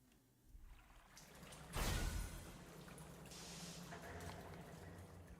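Water in the video game Duet Night Abyss, radioactive water in drainage tunnels, with a splashing plunge as a character drops in, followed by a steady wash of moving water, quiet overall.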